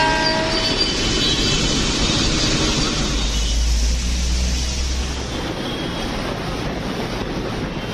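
A Mumbai suburban train rumbles past loudly, a deep rolling roar with a sustained horn-like tone that fades as it moves on.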